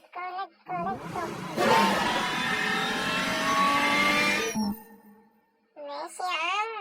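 A red Lamborghini in PUBG Mobile accelerates with a rising, sustained engine roar lasting several seconds, loud and close, with a voice talking briefly before and after.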